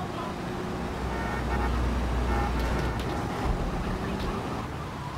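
Car horn honks in GTA III amid engine and traffic noise, a short burst of tooting under a steady motor drone.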